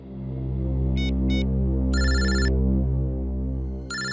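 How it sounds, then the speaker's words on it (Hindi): An office phone rings in a TV crime drama scene: short electronic trill bursts repeat in a pattern over a loud, steady low hum of background music, with no talking. "ऑफिस से फोन"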